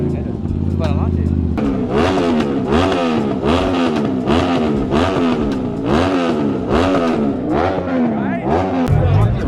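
A McLaren Senna GTR at a JDM car meet, its engine revving hard in loud, rapid rising and falling pulls, close by and aggressive, with crowd chatter and voices mixed in around it.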